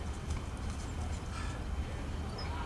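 Horse hooves thud steadily on muddy ground at a walk, soft and close, with faint talk in the background.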